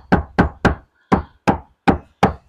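Seven hand knocks on a car panel of a Hyundai Stargazer fitted with VTech sound-deadening material, dull, solid thuds in a loose rhythm with short gaps, close and alone.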